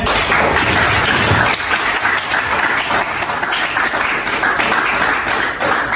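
A classroom of students at a Jakarta high school gives applause for the discussion groups, a dense burst of many hands clapping that is loud at first and then eases, with faint voices.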